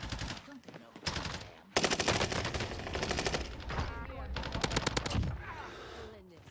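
Rapid automatic gunfire in the Warzone video game, several loud close bursts of shots with short pauses between them, with voices talking underneath.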